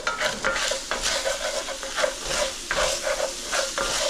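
Pork stirred in a hot frying pan, with repeated scraping strokes over a steady loud sizzle that continues without pause.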